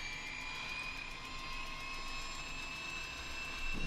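Boeing 727 auxiliary power unit spinning up in the X-Plane flight simulator, a steady jet-like whine and rumble with a rising high tone, heard close and constant, with no talking.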